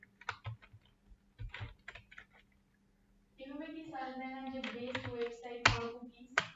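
Quick bursts of clicking on a computer keyboard, light and close, with a person speaking over the later keystrokes.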